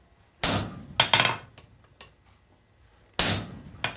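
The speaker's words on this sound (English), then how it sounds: "This is another great part to have a curved chisel, because you can do work like this" A hammer strikes a curved chisel into hot steel while a bottle opener is forged, giving a few sharp, loud metallic blows at uneven intervals, close by with quiet gaps between them and no speech.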